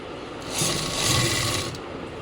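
A sewing machine runs a short stitching burst on the pocket of palazzo pants, a close, even mechanical whir that swells for about a second and then fades back to a low hum.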